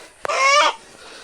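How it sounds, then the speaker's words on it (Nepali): A rooster let loose and then caught gives one loud, harmonic honking call lasting about half a second, right after a sharp knock, with quiet surroundings. "भाले चाहिँ दिपबन्धु सरले छोड्नुभयो"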